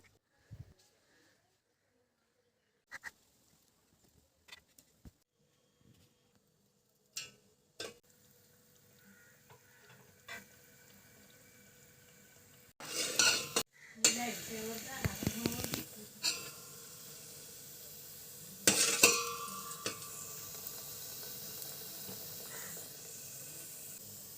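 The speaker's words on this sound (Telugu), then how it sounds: "ఇప్పుడు నేను ఇందులోంచి ఒక కొన్ని వడియాలు తీసి వేపి చూపిస్తానండి" Sun-dried pumpkin vadiyalu (rice fritters) frying in hot oil in a pan, bursts of sizzle and hiss that start faint and grow louder in two strong spurts, with quiet clinks between.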